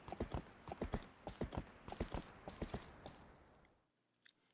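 Epona, Link's horse in the Twilight Princess game, trots with rhythmic clip-clopping hooves, loud and close, in steady paired beats for about four seconds before fading into near silence.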